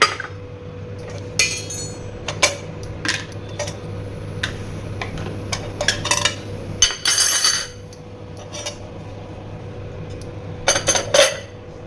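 Steel utensils and pots being arranged in a kitchen, with scattered sharp clinks, taps and clatters at irregular intervals over a low steady background hum.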